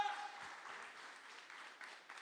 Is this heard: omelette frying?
no